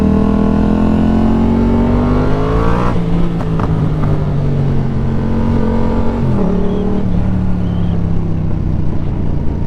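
A Kawasaki Z650 or Yamaha MT07 motorcycle with an aftermarket exhaust fitted idles loudly close by, then revs up and drops back, with a second throttle blip later; the engine drones throughout.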